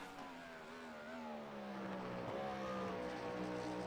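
Cadillac race car in a Le Mans racing video game, its engine holding a steady high drone with a gear change partway through, loud and close, with no talk over it.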